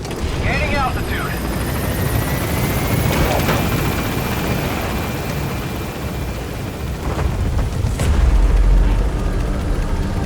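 A B-Quad helicopter lifts off from a landing zone in the game Metal Gear Solid V, its loud rotor and engine roar rising and continuing steadily as it gains altitude, with a deep rumble near the end.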